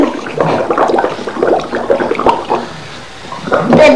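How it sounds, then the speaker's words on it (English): Bathwater splashes in short, bright bursts as twin baby girls play in the tub, close and lively, with a brief lull before more splashing and a little adult talk. "The big splash on my face"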